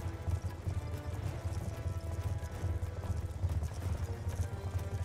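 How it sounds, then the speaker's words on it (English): Horse hooves clip-clop steadily across desert ground in the video game Call of Duty: Black Ops 2, a continuous rhythmic trotting patter at moderate volume with no break. "anytime I'm going on a horse in the desert"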